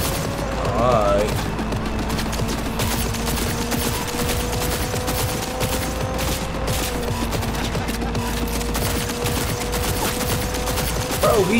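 Sustained gunfire in the video game CyberRunna, dense rapid rattling bursts running continuously beneath an ongoing game soundscape.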